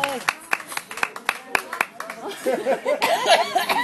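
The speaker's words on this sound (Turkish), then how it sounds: "Kocaman alkış rica ederim." Audience applause and clapping for a band on stage, sharp separate claps at first that blend into a dense burst of applause, with laughter and voices mixed in.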